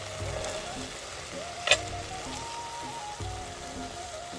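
Green peas dropped into hot spiced oil in a pan while cooking matar paneer, giving a soft, steady sizzle with light stirring and a brief clatter partway through.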